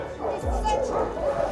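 Dogs just evacuated under fire in Berdiansk, Ukraine, bark and whimper loudly and close by, in yips and a low woof, mixed with people talking nearby.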